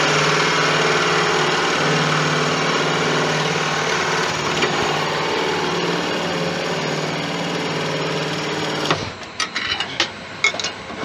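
Wood lathe running steadily with a tool parting off a turned wooden pipe bowl, a continuous loud machine hum with cutting noise that cuts out abruptly near the end, followed by a few scattered knocks.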